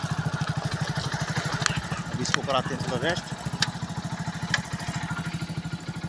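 A motorcycle idles with a steady, rapid putter close by, while someone speaks briefly over the engine and a few sharp clicks cut through.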